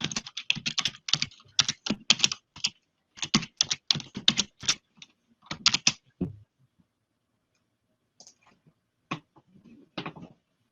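Rapid bursts of keystrokes on a computer keyboard as a password is typed, clattering in quick uneven runs with short pauses, then thinning to a few scattered, fainter taps after a silent gap.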